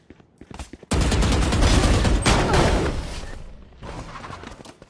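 Shotgun blasts in Valorant, a sharp loud shot followed by a sustained burst of booming fire and clatter that decays over a couple of seconds, then lighter game sounds resume.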